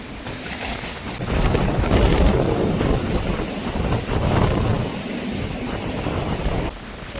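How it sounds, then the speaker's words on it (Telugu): Strong morning gale during a cyclone roars across a coastal village, buffeting the microphone in heavy gusting surges that rise and fall, loud and close, with no talking. "ఏందినాయనా ఈ గాలి ఈ ఉదయాన"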